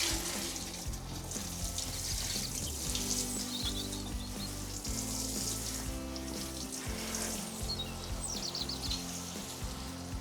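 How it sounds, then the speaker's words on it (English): Water sprinkles steadily over newly planted salad greens in an unheated winter greenhouse, a continuous hissing patter with faint droplet ticks and a low background drone, no talking. "I'm just gonna give it a quick water."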